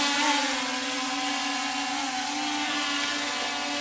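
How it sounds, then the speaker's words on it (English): A small camera drone hovers close by, its propellers giving off a steady, high-pitched buzzing whine with a constant tone and no pauses. "you can see what the drone is seeing."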